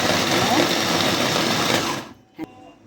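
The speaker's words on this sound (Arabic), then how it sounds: "دلوقتي هنضرب بقى البصل والفلفل" An electric blender grinds onion and pepper, a loud steady whir for about two seconds before it cuts off, followed by a brief clunk.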